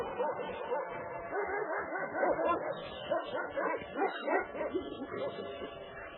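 Dog barking and yipping repeatedly at close range, a busy run of excited barks and whimpers lasting several seconds.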